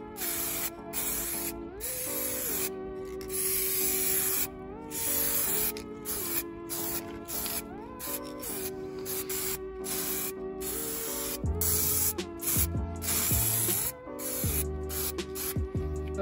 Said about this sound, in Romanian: Agităm din nou spray-ul, suntem la a treia mână